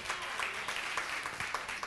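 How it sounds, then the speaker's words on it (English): A church congregation claps together in praise, a dense steady patter of applause in a large room. "Let's give God a huge hand clap of praise."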